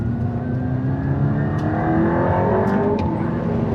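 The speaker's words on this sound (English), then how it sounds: "Hit the rev limiter" The engine of an Aston Martin Valhalla hybrid hypercar, with a battery and three electric motors, holds a loud, steady high-rpm roar at the rev limiter. The sound is close and continuous, with no talking over it.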